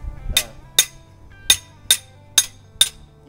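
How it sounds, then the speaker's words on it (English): Six sharp metallic hammer strikes on metal held against a dolly, straightening an auto body panel edge, ring out at a steady, unhurried pace, each with a bright clink over a faint low hum. "Hammer on dolly works really good to straighten your edges back out."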